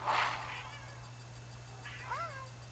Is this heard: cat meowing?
yes